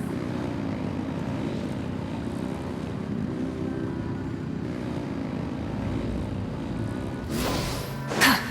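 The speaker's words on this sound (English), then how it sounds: "Rev the engines!" Steady propeller-aircraft engine drone in Genshin Impact, a continuous loud humming roar that swells briefly near the end with a sharp burst.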